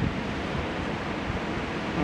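Surf and wind on a beach after a bomb cyclone, in a dune area uprooted by storm waves: a steady, loud broadband wash of breaking water and gusting air with no distinct individual breakers.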